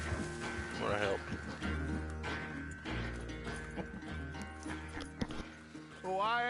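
Horse hooves clip-clop steadily in a Red Dead Redemption 2 session on PS4, running throughout under loud game music and talking voices, with a whinny-like sound near the start.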